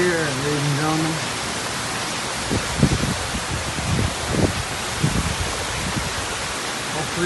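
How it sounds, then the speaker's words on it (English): Heavy rain pouring outside in Grand Cayman, a steady broadband wash of falling water, while a person talks in the first second and then softer voices murmur under it. "So the rain's pouring outside."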